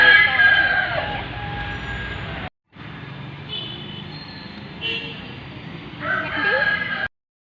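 A rooster crows at an old temple, its drawn-out calls rising over distant road traffic with a brief gap partway through.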